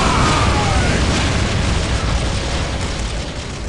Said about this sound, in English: Let the grenades fly!